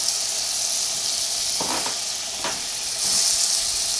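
Butter sizzles steadily in a hot pan with a loud, even hiss throughout, broken by a couple of soft clinks, while a voice briefly speaks at the end.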